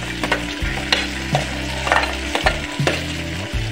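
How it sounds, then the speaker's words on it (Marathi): Mixed vegetables, carrots and peas for a veg pulao, sizzle loudly in a pan while a spoon stirs and scrapes in a steady, repeated rhythm, close up and without voices. "आता सर्व भाजीपाला आम्ही एकत्र टाकणार आहे। सर्वप्रथम गाजर टाकणार आहे,"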